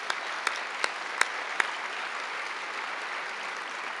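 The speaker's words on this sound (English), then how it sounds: "Let's have a hand of applause for our sponsors." Light applause from a luncheon audience thanking sponsors at an annual Openlands charity luncheon, a steady soft patter of hands with a few sharper individual claps standing out, moderately distant and fairly faint.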